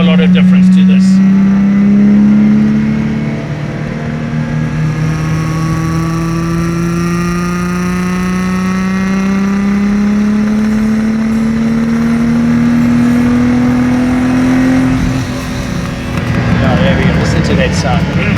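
A Lamborghini Miura engine drones loudly as the car drives and accelerates, the pitch climbing through a long steady pull with brief dips at gear changes.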